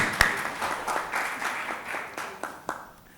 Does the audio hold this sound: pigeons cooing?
no